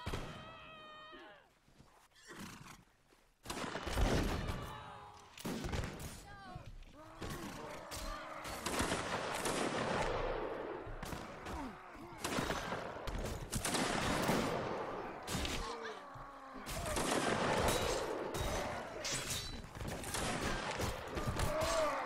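Dense volleys of musket and rifle fire crackle through a large Mount and Blade Full Invasion 2 battle set in the Seven Years War era, with bursts and scattered shots rolling continuously, loud and close, over a constant din of distant firing.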